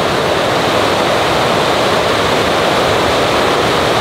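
A mountain stream rushes past, a loud, steady, continuous roar of flowing water close by, with no voices over it.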